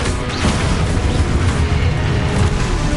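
Confringo blasting spell explosion in the Hogwarts Legacy video game, a very loud, rumbling boom that fills the clip with continuous low roaring blasts and crackling debris, no talk over it.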